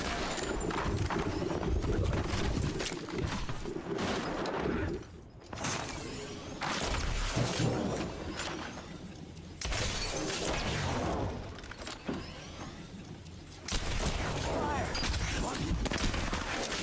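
Rapid bursts of gunfire crackle through an Apex Legends match, dense volleys cutting out briefly and resuming, with a player talking over the shooting.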